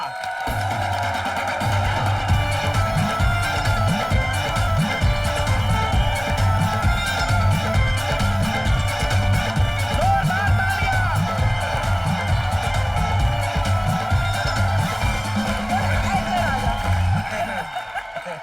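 A studio audience at Comedy Nights With Kapil applauds and cheers in welcome for Kirron Kher, steady loud clapping with background music running for most of the stretch before it fades.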